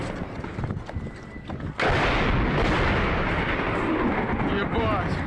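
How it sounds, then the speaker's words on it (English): Heavy explosions boom out in war combat in Ukraine, with a huge broadband blast about two seconds in that turns into a dense, continuous roar of rumbling detonations from an ammunition depot. "the explosions are getting even closer and even louder"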